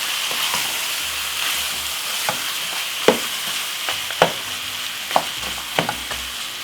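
Marinated Jamaican-style curry goat sizzles and fries in a pot as a spoon stirs it, with a loud, steady hiss broken by scraping strokes against the pot.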